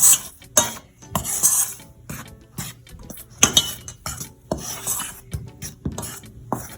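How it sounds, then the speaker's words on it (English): Flour, baking powder, nutmeg and cinnamon are mixed in a bowl for a Jamaican black rum cake, giving repeated close scraping and clinking strokes of a utensil against the bowl in an irregular rhythm, with no talking. "And I make sure I mix this all together."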